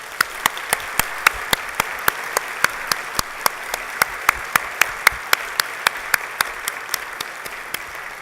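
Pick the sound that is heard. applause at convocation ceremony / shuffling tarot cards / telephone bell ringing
applause at convocation ceremony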